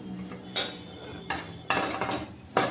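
A hot pan of steamed moong dal dhokla is lifted out of a steamer using a cloth, with a few sharp metallic clanks and scrapes of metal on metal, close and fairly loud, with no talk.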